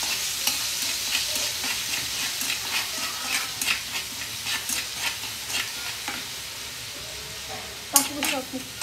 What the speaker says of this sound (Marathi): इथं टाकते मी मसाला, थोडंसं फ्राय करून ते